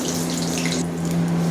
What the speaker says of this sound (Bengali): এই যে দেখছেন আমি একটা একটা করে চপগুলো এখন ভেজে নিচ্ছি।